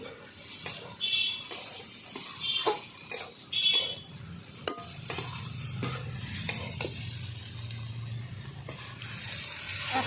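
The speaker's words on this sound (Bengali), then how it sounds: "এবার আমি সব ইঁচড়টা দিয়ে দেব ভালো করে কষিয়ে নেবো একসঙ্গে" Jackfruit and spices are sautéed in a pan. A soft sizzle hisses steadily underneath while a spatula scrapes and knocks against the metal in irregular strokes, close up, with no talk.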